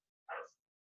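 A single short dog bark, close and fairly loud, alone against silence, from one of the household dogs that bark at leaves, passersby and squirrels.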